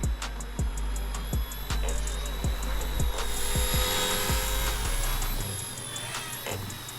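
A small RC helicopter, an ERA C138 1/33 scale Bell 206, whines steadily with a high buzzing rotor hum, punctuated by repeated low thumps, fairly close and continuous throughout.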